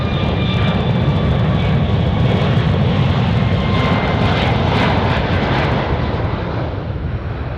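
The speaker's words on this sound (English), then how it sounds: "737 Alaska taking off on 25 left" An Alaska Airlines Boeing 737 roars on its takeoff from runway 25 left at Anchorage Airport, a loud, sustained jet engine rumble with a high whine that holds steady and then eases slightly near the end.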